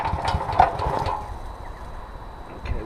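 A 4000 psi petrol-engine pressure washer sputters and runs after a pull start, its small engine knocking and chugging unevenly up close, choppier at first then settling into a rough idle.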